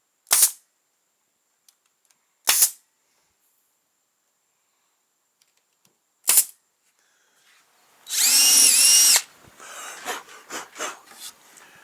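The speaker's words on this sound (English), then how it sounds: "drilling the holes back out from where the drawer pulls are going to go" A power drill bores holes for drawer pulls in cart drawers made from recycled lumber, with short sharp clicks and knocks, then a brief loud whirring drill burst followed by scattered rubbing and handling sounds.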